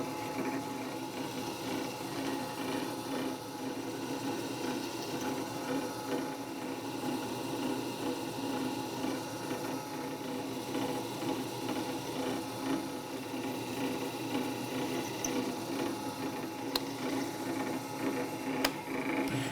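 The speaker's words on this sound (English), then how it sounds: "the drill press is going to be the best way to do this" A drill press bores into a clutch part from a 2005 Honda CRF450-R dirt bike, giving a steady, moderately quiet mechanical whir that runs unbroken throughout.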